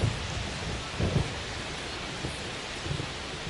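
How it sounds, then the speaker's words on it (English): Steady rain hiss with low thunder rumbles in the MLB The Show 25 baseball game, Mets against Pirates, a dense continuous wash with a few louder swells, no talking. "This rain is not letting up."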